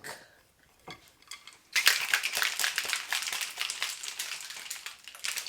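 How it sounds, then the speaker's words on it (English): A covered cocktail shaker holding lemonade and syrup is shaken hard, giving a steady run of rattling, clattering sloshes that starts suddenly after a short quiet pause with a few small clicks. "Then we are going to cover her up and shake."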